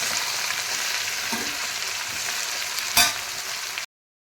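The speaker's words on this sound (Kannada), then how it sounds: "ಈಗ ಈರುಳ್ಳಿ ಚೆನ್ನಾಗಿ ಬೆನಿಬೇಕಿದು." Chopped onion frying in a pan for Madakikal Palya, a North Karnataka dish, giving a close, steady sizzle with one sharp clink near the end before cutting off.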